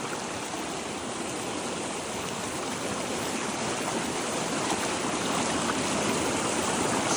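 Stream water rushes steadily along a hiking trail, a loud, close, continuous broadband flow with no break across the whole stretch and no voices.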